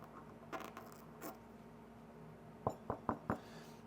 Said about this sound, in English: I'm just going to use a toothpick to just kind of scrape off some of the stuff that was softened